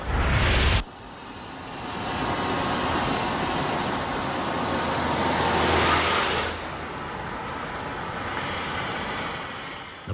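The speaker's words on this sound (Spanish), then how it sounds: "Este coche es un híbrido que quema gasolina normal o, apretando un botón," A hybrid car that burns ordinary petrol or hydrogen runs with a steady, moderate drone after an abrupt cut at the start. The sound swells gently in the middle, then settles, with no one talking.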